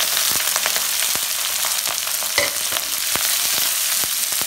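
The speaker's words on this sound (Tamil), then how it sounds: "கருவேப்பிலை, தக்காளி 1 நிமிஷம் ஃப்ரை ஆகட்டும்." Onions and chilies fry in hot oil with spices for a coconut milk sambar, giving a loud, continuous sizzle with crackles and the occasional scrape of stirring.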